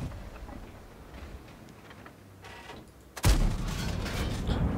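A tank's main gun fires blind in an online tank battle game, one sudden loud boom breaking a quiet rumbling stretch and leaving a heavy roar afterward.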